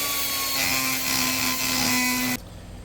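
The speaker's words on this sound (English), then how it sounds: "I'm stuck using the die grinder today." A die grinder cuts into a 70cc Yamaha Zip scooter's Yasuni R exhaust with a loud, steady high-pitched whine close by, then abruptly stops, leaving quieter background noise.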